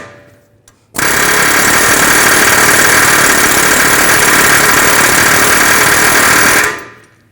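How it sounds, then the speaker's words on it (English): Air chisel hammering a rusted-in CV axle loose from the wheel hub of a 2009-2010 BMW 535i xDrive, a very loud, close, continuous pneumatic rattle that starts abruptly, runs about six seconds and then winds down. "This one's rusted in there pretty good, so I'm just going to use an air chisel"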